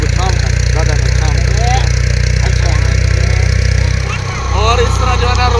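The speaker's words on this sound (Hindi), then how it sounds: "क्योंकि ट्रैक्टर की आवाज़ काफ़ी ज़्यादा है इसलिए ऊंचा बोल रहा हूँ।" A tractor drives a rotavator tilling a field, its loud steady engine drone filling the whole clip with a brief dip near the end, while someone talks loudly over it.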